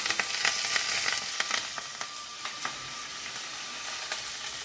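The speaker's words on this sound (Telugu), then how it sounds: "చక్కగా తాలింపు వేగిపోయింది. మనం కరివేపాకు వేసుకుందాం." Curry leaves sizzle and crackle in hot tempering oil, a loud, steady frying hiss with sharp pops scattered through it, heaviest early on and settling into a continuous sizzle.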